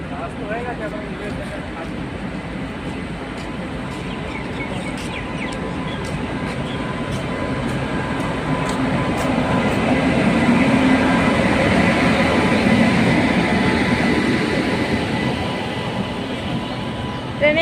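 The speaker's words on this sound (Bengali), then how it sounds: "ট্রেন ঢুকে গেছে বন্ধুরা" A train rumbles steadily into a station, its roar building and peaking before easing slightly, with voices murmuring beneath the continuous noise.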